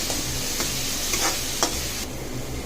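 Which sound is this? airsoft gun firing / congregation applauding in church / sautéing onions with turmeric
sautéing onions with turmeric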